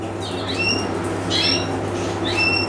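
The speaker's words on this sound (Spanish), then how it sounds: "Mira cómo comen ahí la cerrajita todos los pajaritos." Canaries feeding on sow thistle give high, sharp chirps in three quick clusters, close and clear over a steady low background hum.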